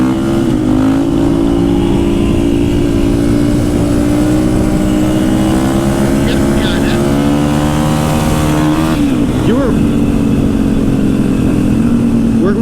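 A supermoto motorcycle's engine revs loud and close while it rides wheelies, its note rising and holding, then dipping sharply and climbing again near the end.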